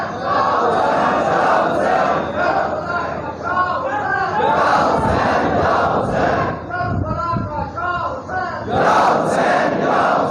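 A large crowd shouts a slogan response in loud massed voices during a Punjabi religious speech, repeated in swelling bursts over roughly ten seconds with a speaker's voice amid the roar.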